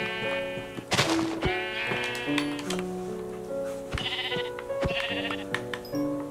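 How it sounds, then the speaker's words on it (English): Sheep bleat repeatedly in a Minecraft survival game, several wavering bleats at close range layered over soft background music, with no talking. "Here's some sheep though"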